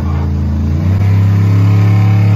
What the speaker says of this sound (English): Roger, we at the track in Orlando right now. You feel me? It's loud as fuck